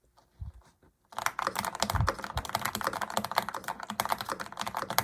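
Rapid typing rattles across a creamy-sounding mechanical keyboard, dense close keystrokes with deeper thocks starting after a brief quiet opening of a few taps, with no voices.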